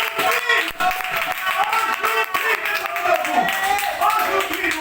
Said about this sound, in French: Applaudissons bien fort l'Esprit du Seigneur.